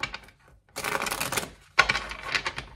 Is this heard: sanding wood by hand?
no